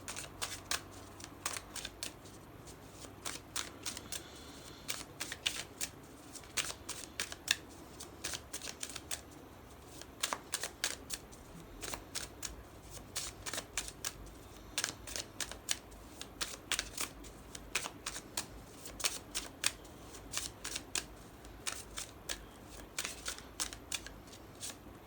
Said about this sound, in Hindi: थोड़े कार्ड्स आपके पहले शफल कर लें